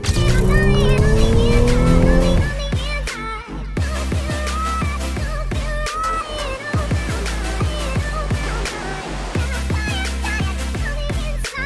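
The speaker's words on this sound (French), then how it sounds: "c'est tellement facile de conduire cette nouvelle A5 coupée" A new Audi A5 coupé drives along a badly damaged road, with steady road and engine noise throughout, a louder tonal engine stretch at the start and scattered knocks and thumps from the rough surface.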